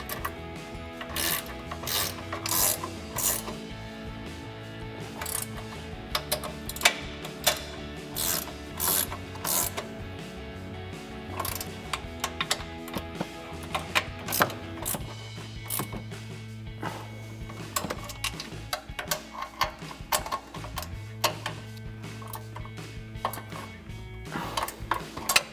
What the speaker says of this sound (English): grab a 16mm ratcheting wrench. We're gonna go up top and tighten down our 4 bolts